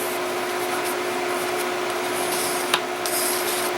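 Folded paper for a memorial album being burnished, a steady close rubbing and scraping with a single sharp tap near the end.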